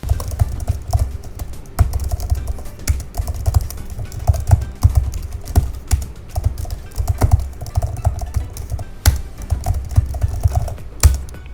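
Fast continuous typing on the keyboard of a 2021 M1 iPad Pro, with dense close key clicks and occasional heavier spacebar taps at a steady rhythm.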